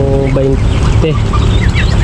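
Ducks call with nasal, honking quacks close by, several birds overlapping in quick bursts over a busy background.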